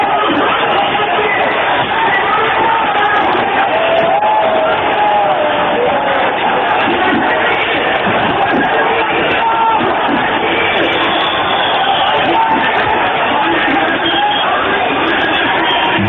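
A large angry, frenzied crowd shouts and roars continuously and loudly in a dense, far-off mass of voices, heard through a narrow, muffled archival recording of the 6 December 1992 Babri Masjid demolition in Ayodhya.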